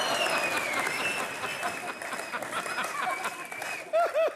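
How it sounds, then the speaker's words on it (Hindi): A studio audience on a comedy talk show claps and cheers in a sustained burst of applause, with a host's voice and laughter mixed in and a couple of loud bumps at the end. "और हमारे खूबसूरत सोफे के लिए भी जोरदार तालियां"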